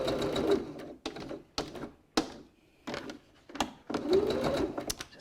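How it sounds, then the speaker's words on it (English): Sewing machine with a regular presser foot back-stitching around a die-cut cylindrical case, loud bursts of rapid needle chatter that start and stop repeatedly with short pauses between runs, no voices. "got my regular foot back on the machine, do a back stitch"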